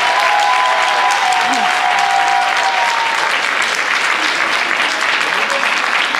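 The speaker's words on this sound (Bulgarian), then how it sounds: "Аплодисменти още един път за тях." Dense, steady applause from a large audience at a folk dance festival closing in Pernik, sustained and loud throughout. A brief voice sounds near the start.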